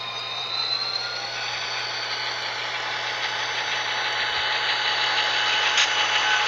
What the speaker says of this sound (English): we're going to listen to it rev up and come back down